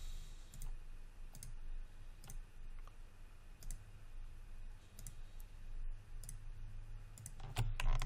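Quiet, scattered mouse clicks in Maya while modeling a tire and rim, irregular single and double taps spread across a steady low room hum, with a small cluster near the end.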